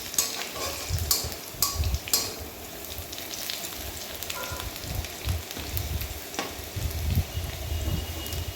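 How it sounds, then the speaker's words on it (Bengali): Onions fry in a pan with continuous sizzling while a spoon stirs and scrapes them in irregular bursts, close and moderately loud. "পেঁয়াজটা ভাজা হয়ে গেছে"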